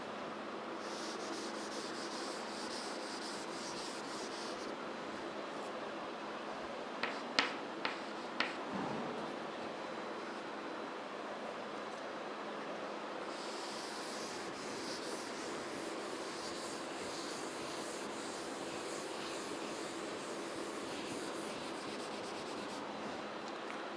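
Chalk is rubbed off a classroom board with a steady, faint scrubbing that runs throughout, broken by a few sharper taps and knocks around the middle, and no voices.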